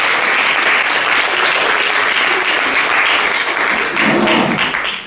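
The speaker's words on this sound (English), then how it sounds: "please welcome her with a warm round of applause" An audience claps steadily in sustained applause welcoming a speaker to a startup talk, a dense, loud, even roar of many hands lasting throughout and tapering slightly at the end.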